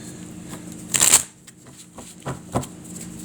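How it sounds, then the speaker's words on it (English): Tarot cards being shuffled in a short, loud riffling burst, followed by a few softer card taps and handling sounds in a quiet room. "put these cards back in"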